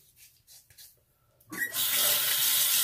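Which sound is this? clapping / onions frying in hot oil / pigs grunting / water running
water running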